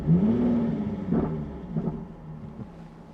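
A 2014 Jaguar F-Type 3.0 V6 S engine cranks and catches with a rising whine, then settles into a low idling rumble with a few revs, close by and fading slightly.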